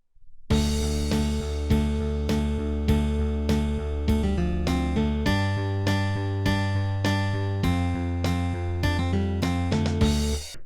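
Opening of a hard rock song with a bass line: a sustained, dense band with a deep bass part that drops lower about halfway through, steady rhythmic hits on top, loud and continuous for about ten seconds with no talking.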